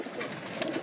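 Pigeons in a crowded loft, the birds kept in separate male and hen sections, giving a soft continuous murmur of cooing and rustling, close and steady with no talk.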